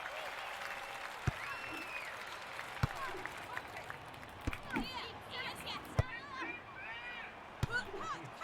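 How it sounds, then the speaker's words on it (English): Crowd cheering and applause in a tennis event of the London 2012 video game, a steady roar with sharp ball hits and a commentator talking over it. "Just listen to the crowd."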